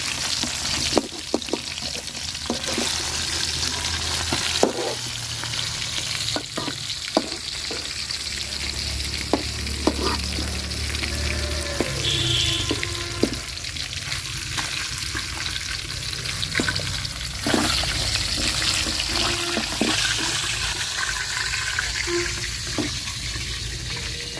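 Fish and new potatoes sizzle steadily as they fry in oil in a pan, with scattered stirring clicks and scrapes throughout and no talking.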